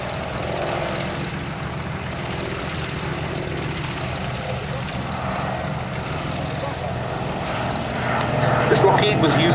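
Lockheed 12A Electra Junior propeller plane flying at the Duxford Battle of Britain Airshow, a steady loud engine drone that swells near the end, with a voice talking over it.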